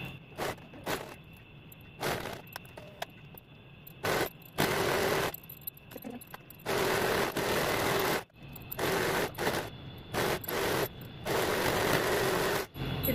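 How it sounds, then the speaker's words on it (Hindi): A domestic sewing machine stitches down both sides of a slippery-fabric cushion cover for a sofa, running in several bursts of steady whirring separated by short pauses, close and moderately loud with no talking. "इसे पिनअप करने के बाद हम ये दोनों साइड में इस तरह से सिलाई लगा लेंगे।"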